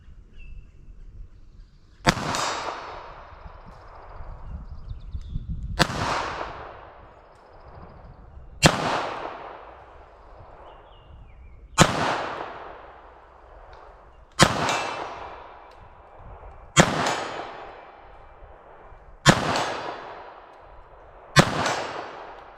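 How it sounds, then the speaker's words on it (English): Seven sharp gunshots from a .32 ACP pistol fired at a target 40 yards away outdoors, spaced a few seconds apart, each a loud crack with a long ringing echo trailing off, no talking. "See if I can make any hits at all from 40 yards with our 32 ACP."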